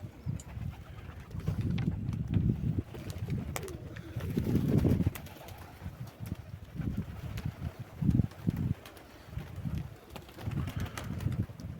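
Pigeons coo steadily in a loft, a run of low, soft, rounded calls repeating in bursts throughout with faint rustling between them; no one speaks.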